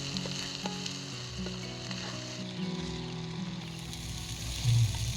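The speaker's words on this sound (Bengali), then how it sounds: "মশলা ভাজা হয়ে গেছে" Spices sizzle and fry steadily in a hot pan while palak paneer is cooked, a close, continuous crackle with occasional stirring scrapes and a brief louder burst near the end.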